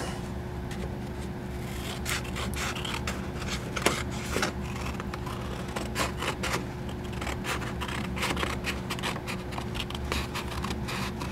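Scissors cutting out a traced paper holster pattern, a steady run of close, soft snips and rustling scrapes over a faint background hum.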